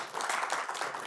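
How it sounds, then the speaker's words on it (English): Audience applause for the founding dean at a talk on the Southern Nevada healthcare economy: dense, steady clapping from a room full of people, brief and fairly even in loudness. "Give her a round of applause"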